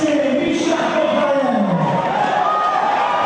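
A crowd at a 2009 Fortissimus strongman competition cheers and shouts steadily through a push jerk lift, a dense, loud roar of voices that stays sustained throughout.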